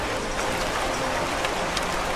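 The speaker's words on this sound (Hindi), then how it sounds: "भारी बारिश से जनजीवन पूरी तरह से ठप हो गया है" Heavy rain comes down in a steady, dense hiss with a broad wash of patter, loud and unbroken throughout, with no talking.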